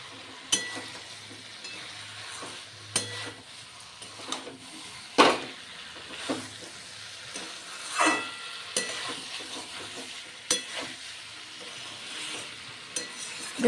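Pointed gourd curry being stirred and sautéed dry in a pan, with repeated spatula scrapes and knocks over a continuous frying sizzle, close and fairly loud, no voices.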